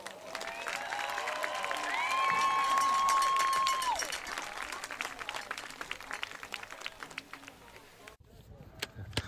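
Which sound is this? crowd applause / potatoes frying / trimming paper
crowd applause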